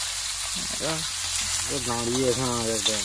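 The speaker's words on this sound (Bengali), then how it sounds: "মাছগুলো ভেজে দিচ্ছি যাতে তোমার একটু সুবিধা হয়" Rohu fish, a large carp around three kilograms, frying in a pan with a steady broadband sizzle, while someone talks over it in the foreground.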